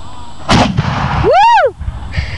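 A single loud cannon blast booms out with a sharp crack and a rumbling tail, followed by a rising and falling whoop from a voice, then quiet.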